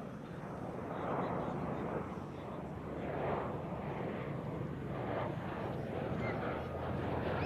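A V-22 Osprey military tiltrotor aircraft drones steadily, its engine and rotor noise holding a broad, continuous roar at moderate level throughout with gentle swells.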